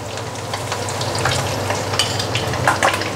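Salted fish frying in hot oil with loud, steady sizzling and crackling, sharp pops and spatters rising over the continuous hiss, close up, with no voices.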